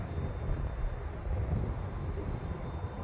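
A Seagull Models Super Decathlon 68-inch RC model airplane flies overhead, its engine a steady, buzzing drone mixed with gusty wind noise across the microphone, with no one talking.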